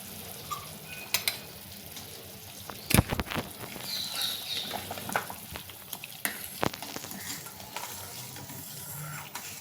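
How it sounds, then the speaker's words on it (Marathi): A spoon stirs a gulab jamun syrup mixture in a pan, giving quiet scraping and soft sizzling with a few sharp clinks against the metal, close and low in level. "हे असं मिश्रण आपण थोडं सतत ढवळत राहायचं."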